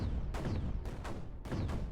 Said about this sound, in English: Alright, let's now bomb cannon.